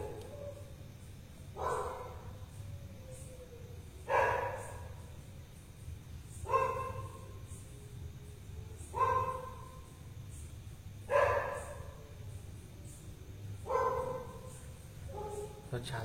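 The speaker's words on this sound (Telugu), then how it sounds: "కుక్కలన్నీ అరుస్తున్నాయి." Dogs bark outdoors at night in a steady series of about six loud bursts, spaced a couple of seconds apart, over a low background hum.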